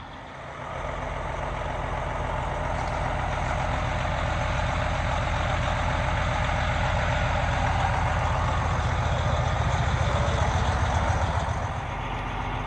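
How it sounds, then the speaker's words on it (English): A truck engine idling loudly at night, a steady low diesel rumble close by that rises in level after the first second and holds constant throughout, no speech. "Man, this truck is loud."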